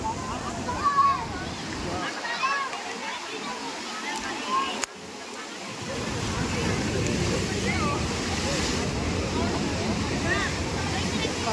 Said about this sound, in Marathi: काय लाट खवळलेली आहे,